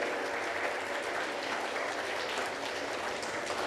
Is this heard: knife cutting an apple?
no